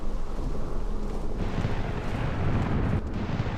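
Thunderstorm in the Morrowind video game, with a low continuous rumble of thunder and rain holding steady throughout, swelling slightly midway, with no voices.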